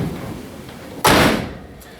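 A Chevelle car door swings shut in one solid, close slam partway through, after a moment of quiet room noise. The thud rings out briefly and fades.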